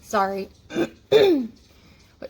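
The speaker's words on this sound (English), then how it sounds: "I cannot stop clearing my throat." A person clears their throat several times in short, gruff bursts, close up, with brief pauses between them.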